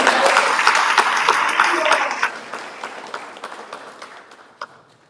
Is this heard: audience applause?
yes